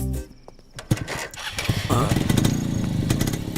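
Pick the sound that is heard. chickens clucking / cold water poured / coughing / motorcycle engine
motorcycle engine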